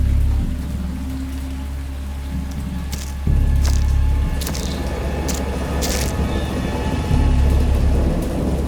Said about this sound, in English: I have indistinct recollections of a great storm sometime after I reached the boat.